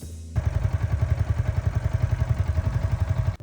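A Yamaha XSR155 motorcycle engine runs loud and close with a fast, even pulsing beat, holding high revs in third gear at speed after a brief quieter start.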